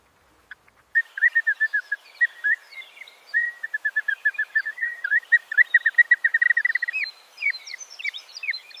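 Greater coucal calling along woodland edges, a long run of rapid, clear chirping notes in quick bursts after a couple of soft clicks, fairly close and alone without voices.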